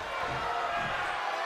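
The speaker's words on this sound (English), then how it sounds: "The sound of this crowd is deafening" Crowd roar in the WWE 2K22 wrestling video game on PS5, a dense, steady wash of arena noise at moderate level with a commentator's voice faintly underneath.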